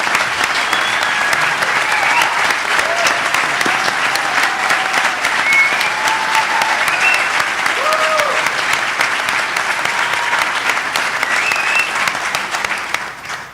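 An audience gives sustained applause welcoming Representative Steve Sutherland, with loud continuous clapping from a large crowd, scattered cheers and voices rising over it, and a fade near the end.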